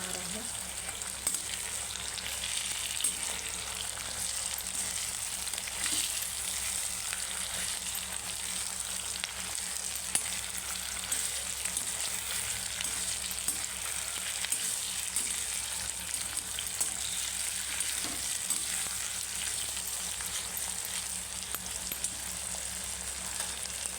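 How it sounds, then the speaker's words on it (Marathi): Browned onion and tomato sizzle steadily while being stirred in a pan, a continuous close frying hiss with scattered scraping sounds and no pauses. "मी त्या टोमॅटो टाकून घेणार आहे मिक्स करून"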